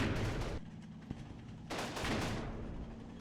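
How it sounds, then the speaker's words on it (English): Dense World War II battle gunfire and artillery from the video game Combat Mission Final Blitzkrieg, with bursts of rattling shots and rumbling explosions overlapping continuously at loud, mid distance. "Still some shooting going back and forth between the hedges and my tree line."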